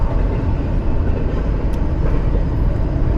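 A loud passing train heard from the roadside on a drive through Southern California, a dense, steady rumble filling the whole clip with no pause.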